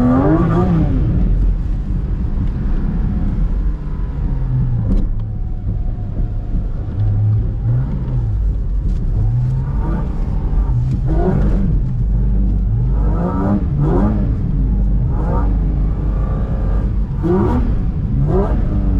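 Car drifting on a wet track, a loud close engine droning and revving up and down continuously with tire noise over nearly twenty seconds.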